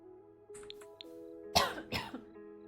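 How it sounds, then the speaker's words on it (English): Two close, harsh coughs from a person, the second a little weaker, cutting over soft steady background music in an otherwise quiet room. "Sorry, I had to cough"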